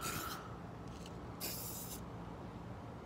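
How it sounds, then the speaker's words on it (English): An Acme spray paint can, used without shaking, hisses out in two clear short bursts with a fainter puff between them, heard close up against quiet background noise. "this is how they spray."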